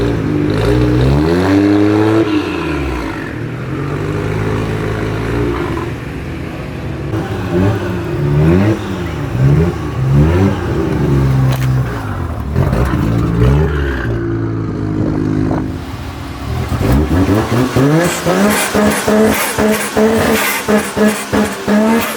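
A modified Mitsubishi L300 van fitted with air suspension, shown at a car modification competition, revs loudly and repeatedly, its engine note sweeping up and down in pitch, then roaring harder near the end.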